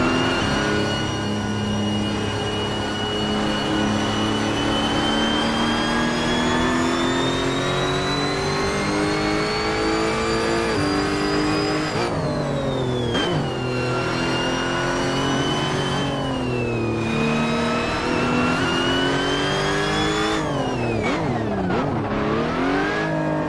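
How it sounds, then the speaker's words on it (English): Racing car engine and gearbox in the Assetto Corsa driving game, a loud continuous engine note rising steadily through the revs, then dropping and climbing again at several gear changes, with no talking. "Oh, that gearbox sound, I love it."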